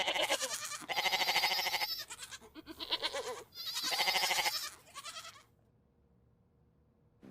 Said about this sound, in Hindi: मुझे कोई बकरा आवाज दे रहा है।